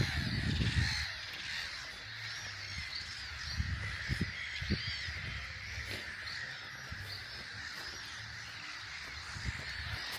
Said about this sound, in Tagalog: Ang ingay ng mga ibon, parang mga marites din.